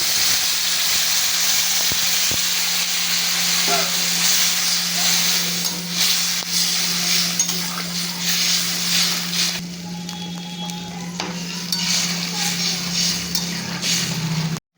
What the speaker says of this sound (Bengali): এবার আমি পরিমাণ মতো জলটা দিয়ে দিচ্ছি।